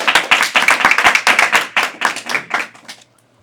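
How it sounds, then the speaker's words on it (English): A burst of enthusiastic clapping from a small crowd, dense and lively for about three seconds before stopping abruptly. "let's give a big round of applause to Prahladananda."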